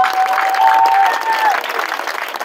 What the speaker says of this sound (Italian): ma sicuramente un grande applauso però